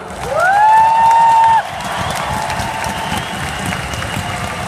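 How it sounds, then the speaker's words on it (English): Loud applause and cheering from a large crowd at a USANA Philippines company event, with a rising whoop or whistle over the first seconds, then sustained clapping and crowd noise continuing at a slightly lower level. "let's give a big USANA applause to the Vice President for Project Management, Ms. DIANE Leroy"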